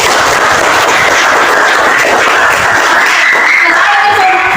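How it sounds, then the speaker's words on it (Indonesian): Students clapping together in a classroom during a teaching lesson, a loud, continuous dense patter with a faint hum of voices underneath. "tepuk tangan untuk Suling"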